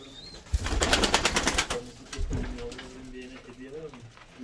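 A racing pigeon able to fly four to five hours, heard close up with a low cooing call near the end, after a loud flutter of wings and scuffling, while people talk nearby.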